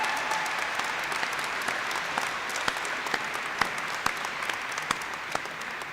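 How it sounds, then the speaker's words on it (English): An audience applauds a swimming and diving coach at an aquatic center dedication, dense sustained clapping from a crowd in a reverberant hall, moderately loud and unbroken. "How about a round of applause for Coach Zemke?"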